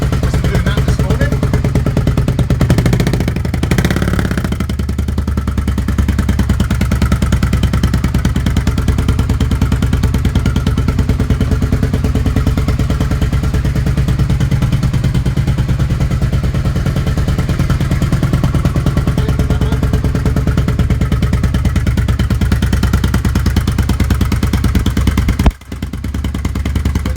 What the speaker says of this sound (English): The idle. Cool. Wasn't doing that this morning.